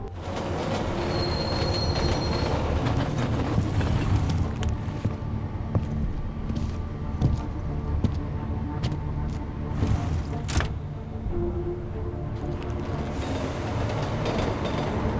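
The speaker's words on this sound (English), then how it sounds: "Just gave you access to a train." Train ride in the video game Deus Ex: Mankind Divided: steady loud rumble of a rail car with squealing wheels and metallic clatter running continuously throughout, no talking.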